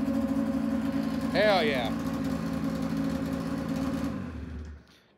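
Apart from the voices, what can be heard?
Polaris Edge X 600 snowmobile engine idling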